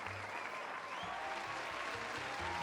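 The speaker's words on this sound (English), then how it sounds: "I even have an applause sound effect because I'm a streamer" A streamer's canned applause sound effect plays steadily throughout, a dense wash of many hands clapping at an even, moderate level with no voices over it.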